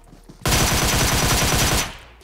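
A gun fires in the video game PUBG Mobile: one sustained burst of rapid automatic fire, loud and close, lasting under two seconds.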